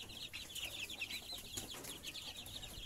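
Muscovy ducklings about seventeen days old give a busy chorus of soft, high cheeping calls, faint and close, running continuously through the short stretch.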